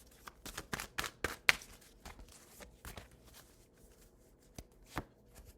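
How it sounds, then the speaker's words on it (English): Tarot cards shuffled and pulled by hand, a burst of quick crisp riffling slaps and snaps in the first two seconds, then sparse single card flicks and taps, close and quiet. "We're going to pull 4 cards."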